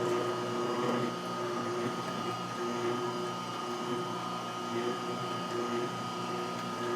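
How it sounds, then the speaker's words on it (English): A Solostar 4 slow juicer runs steadily while juicing peeled blood orange segments, giving a continuous low motor hum with a faint mechanical whir that stays even and moderately quiet throughout. "Let's go ahead and turn on the Solostar 4. Gonna be a lot more calmer there."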